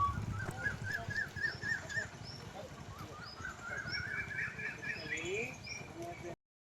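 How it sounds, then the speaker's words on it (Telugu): Birds at the Uppalapadu bird sanctuary give repeated chirps and calls at moderate distance, mixed with a low steady background and a person talking over them. "ఇక్కడికి రాగానే పక్షుల శబ్దాలు భలేగా వినిపిస్తూ ఉన్నాయి."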